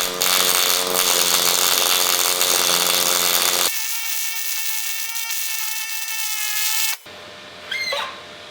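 A pulse MIG welder lays a bead with loud, steady crackling and popping that runs unbroken for several seconds, then shifts to a thinner, more even buzz before cutting off.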